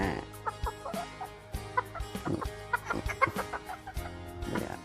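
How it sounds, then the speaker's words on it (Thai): Chickens cluck close by in repeated short, throaty calls, with a hen joining in among the others and a low steady background hum beneath. "อันนี้ไก่นะ"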